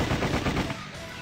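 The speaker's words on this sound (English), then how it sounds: "The now familiar rattle of gunfire filled the hallway" Rapid rattling gunfire from the visual novel game Sweet Fuse: At Your Side, a dense burst of close, loud shots in a hallway that tapers off after about a second.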